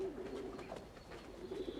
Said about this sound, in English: You see, I've got 2 pigeons